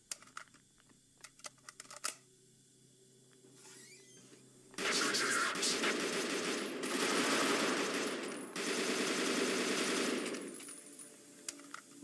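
AK rifle firing on full auto in the video game Peripeteia, long loud sustained bursts after a stretch of keyboard and mouse clicking, with a brief pause between bursts.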